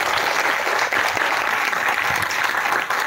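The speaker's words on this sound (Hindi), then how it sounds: "एक बार जोरदार उनके लिए तालियां हो जाए" Sustained, dense applause from an audience honoring successful students at a felicitation ceremony, steady and loud with no gaps across the whole stretch.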